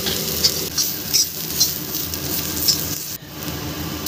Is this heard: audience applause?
no